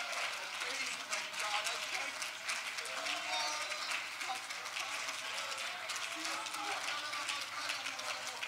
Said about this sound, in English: let's just give God another hand clap of praise.